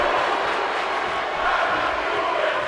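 A hot wrestling arena crowd roars steadily for Enzo Amore at an NXT event, a dense, loud wall of cheering with no pauses.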